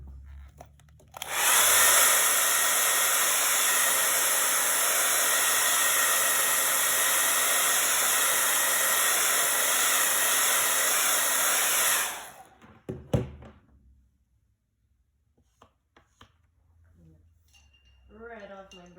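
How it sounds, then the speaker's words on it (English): A hair dryer blows steadily for about eleven seconds to dry wet paint on flip-flops, a loud continuous whoosh that cuts off abruptly, followed by a few small clicks and light handling sounds. "Let me blow it dry real quick."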